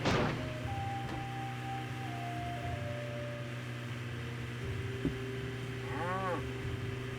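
Cows moo in the Nancy Drew: Trail of the Twister video game, with a couple of drawn-out low calls over a steady background hum, one moo near the start and a wavering bellow toward the end.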